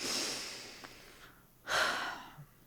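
Deep, audible breathing from a person seated in a chair, with two distinct airy exhalations roughly a second apart, close and fairly loud, no talking.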